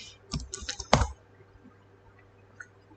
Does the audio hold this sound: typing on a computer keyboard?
yes